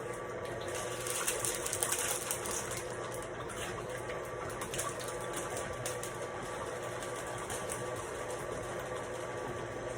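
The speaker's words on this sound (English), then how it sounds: "You can set that stand mixer on low." Stand mixer running on low speed while mixing donut dough, giving a steady, continuous motor whir with a faint tonal hum throughout and no talking.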